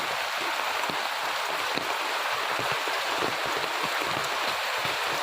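Heavy rain pours steadily, a dense even hiss with scattered nearby drips and patters and no voices.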